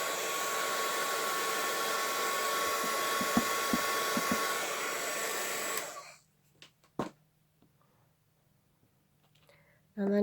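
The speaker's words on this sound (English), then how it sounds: "You can actually use your heat tool to press it down a bit." A heat tool blows hot air onto a plastic mold in a steady loud whooshing roar for about six seconds, then cuts off, leaving a few faint clicks and handling sounds in near silence.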